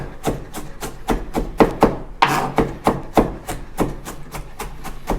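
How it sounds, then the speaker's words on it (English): A knife mincing a pile of parsley by hand on a board, rapid close rhythmic chops in steady bursts of about two per second, with no talk. "you're just going to keep breaking down all this parsley and then finally mincing it as we go along"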